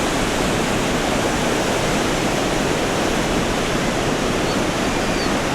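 Niagara Falls thunders at the Cave of the Winds, a loud, steady, broadband roar of crashing water filling the whole clip without any break or voices.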